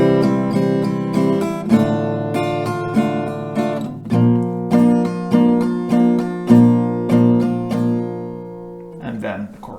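Acoustic guitar strumming the pre-chorus chords of a song in a steady down-down-up-down pattern, close and clear, with bright ringing chord changes and no voice.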